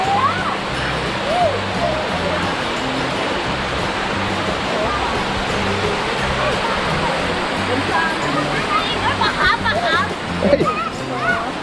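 Thararak Falls near Mae Sot in Tak, Thailand, roars as a steady, loud wash of falling water, with people talking under the constant rush.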